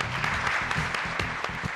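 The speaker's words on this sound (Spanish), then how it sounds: "Un aplauso para él." A studio audience at a television quiz show claps for a winner, a short, fairly quiet burst of mixed hand claps with a few sharper individual slaps.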